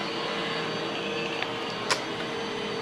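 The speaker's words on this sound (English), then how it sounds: "Alfred, our Roomba, is vacuuming" A Roomba robot vacuum cleaner runs indoors with a steady, close whir and hiss that holds constant from start to end, broken only by a couple of brief faint clicks.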